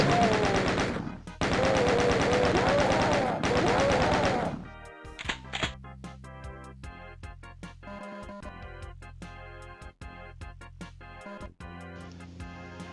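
Rapid gunfire from shotgun and chaingun zombies in the PS5 game DOOM, Map 17, with dense bursts of automatic fire at first, then scattered single shots and clicks over a quieter game backdrop.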